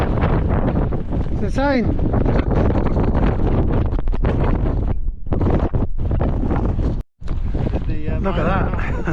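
Strong wind buffets a mountain ridge at Y Lliwedd, a loud continuous roar battering the microphone, with a person speaking briefly over the gusts.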